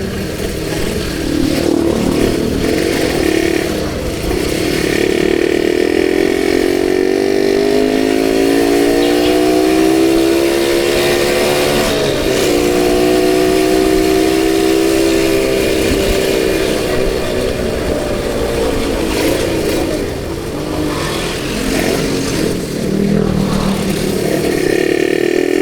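Suzuki Satria two-stroke motorcycle riding through the city streets of Tasikmalaya, its engine droning loud and steady throughout, with revs rising and easing in long smooth swells amid road noise.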